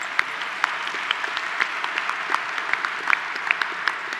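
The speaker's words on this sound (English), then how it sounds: "You certainly deserve applause." Audience at a BSBA graduation recognition ceremony applauds steadily, a dense wash of clapping with sharper individual claps standing out throughout, fairly close and sustained.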